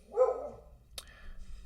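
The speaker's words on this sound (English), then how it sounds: "And that's my dog telling me that I'm done." A pet dog barks once at close range, a single short bark followed by a faint whimpering tail, alone in a quiet room.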